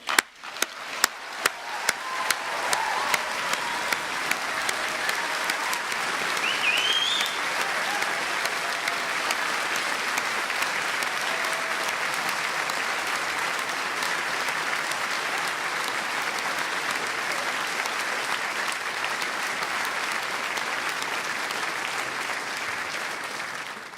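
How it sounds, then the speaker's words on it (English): An audience at a University of Aberdeen summer graduation ceremony applauds the graduands, starting with a few sharp claps that swell into long, steady hall applause. "I would ask you to give a round of applause to our graduands."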